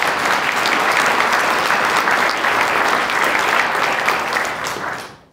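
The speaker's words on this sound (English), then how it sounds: "Can we have a round of applause for Dr." An audience at a panel on Indigenous food sovereignty gives a loud, sustained round of applause for a speaker, which stays even and then fades away at the end.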